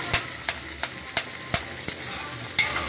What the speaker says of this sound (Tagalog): haluin natin to. Mix lang natin siya guys para lumambot.